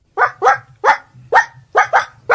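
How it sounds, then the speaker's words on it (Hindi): A dog barks six times in quick, loud, close bursts, grouped in pairs with short gaps between, over a low steady background hum. "किसका कुत्ता है ये?"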